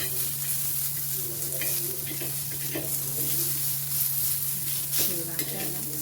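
Onions shallow frying in a pan for an egg curry, a steady close sizzle with occasional stirring scrapes throughout, no talking.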